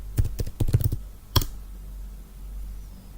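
Quick bursts of key presses on a computer keyboard while entering airline codes in Travelport Smartpoint: a rapid cluster of clicks, a pause, then one more key tap, close and clear.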